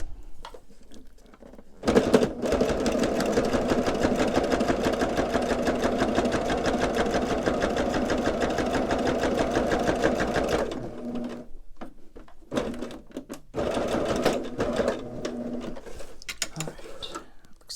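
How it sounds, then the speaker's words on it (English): A sewing machine stitches the sides of a transparent plastic pocket, running loud and steady for several seconds, pausing briefly, then whirring again in shorter bursts. "now what I'm going to do is just sew these two sides"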